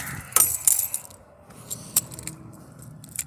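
Keys jingle and clink close by, taken out for the trunk of a 1982 Ford LTD S, a few sharp metallic jangles in quick bursts followed by lighter scattered chinks.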